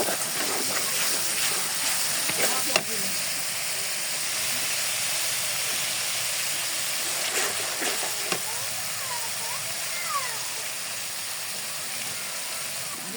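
Spice paste (masala) frying in a pan with turmeric, giving a steady, loud hiss of sizzling oil that runs unbroken throughout, with a few faint scrapes.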